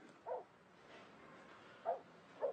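A dog barks three times in short, separate bursts, faint and distant against a quiet background.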